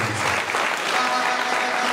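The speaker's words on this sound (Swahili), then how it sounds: "Kwa hiyo tumpigie makofi." A crowd at a political gathering in Mbeya, Tanzania breaks into steady, dense applause, many hands clapping together at close range throughout, with a faint murmur of voices beneath.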